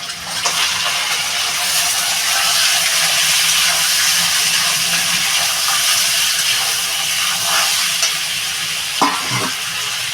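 Crab pieces seasoned with salt and turmeric drop into a hot pan with ginger paste and set off a loud, steady sizzle. The bright frying hiss holds throughout, with a few clatters of stirring near the end.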